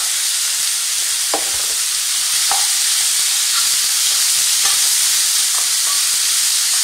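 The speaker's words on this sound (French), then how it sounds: "j'ajoute par-dessus des champignons émincés frais, j'ai pris des champignons frais ainsi que des épinards. Et là, je fais revenir tout ça." Fresh sliced mushrooms and spinach being sautéed in a pan: a loud, constant close sizzle and hiss, broken by a few brief scraping stirs.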